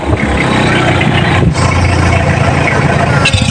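An old car's engine idles steadily with its radiator cap open, a close, loud, even rumble that holds throughout with a brief dip midway.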